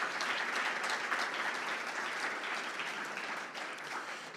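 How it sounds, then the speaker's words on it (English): Applause from the audience at an urban forum, a steady wash of many hands clapping together, fairly distant and sustained, tapering slightly toward the end. "So a round of applause just for everybody who participated,"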